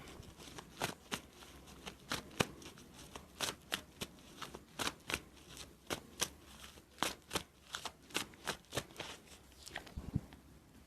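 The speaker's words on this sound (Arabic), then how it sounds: "هنسحب تاني كروت برضو نشوف الدنيا." Tarot cards being shuffled and drawn by hand, a close, quiet run of crisp riffling and snapping card sounds in an uneven rhythm, with no talking over them.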